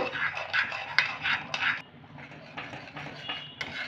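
A spoon scraping and clinking steadily against a pan while milk with powdered milk is stirred for rabri, a rhythmic series of close metallic taps that softens partway through.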